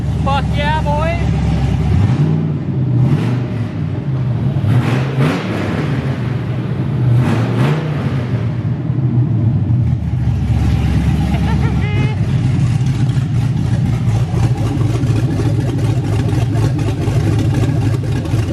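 A 1986 GMC Sierra with a freshly swapped LS V8 starts for the first time: it cranks, catches and then idles loudly, with a few throttle blips rising and falling. Voices talk over the engine at times.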